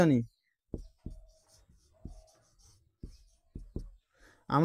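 Pen or chalk tapping and scratching out a trigonometry equation in short, sharp strokes, close and fairly quiet, with a voice speaking briefly at the start and end.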